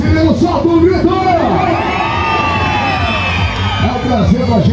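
A large crowd at an outdoor motorcycle stunt show in Parnaíba, Brazil, shouts, whoops and cheers continuously, loud and dense throughout, with an amplified announcer's voice over the noise.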